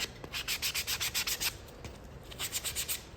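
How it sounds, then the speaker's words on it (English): Wood edges being hand-sanded with quick back-and-forth strokes, a rhythmic series of about a dozen raspy rubs, a short pause, then another run of strokes, close and fairly quiet. "it works really well to sand that off first"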